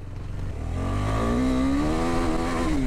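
KTM Duke 390 motorcycle revving hard on an off-road trail, the engine pitch sweeping upward under throttle, loud and close with a rough second-gear note.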